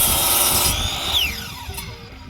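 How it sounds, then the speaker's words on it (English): A power drill bores a hole in wood for a chicken coop frame, a loud close whine that shifts pitch as the bit cuts through and then winds down. "first hole drilled was an excellent fit"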